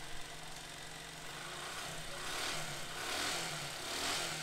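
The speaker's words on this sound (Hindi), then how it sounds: "तो चलो बाइक को स्टार्ट करते हैं।" A Hero Glamour FI motorcycle engine runs at idle after starting, a steady close mechanical drone with a low hum and rough, even pulsing throughout, with no talk over it.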